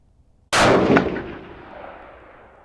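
A single loud rifle shot at an outdoor shooting range, with a sharp crack and a boom that rings out and fades over about two seconds.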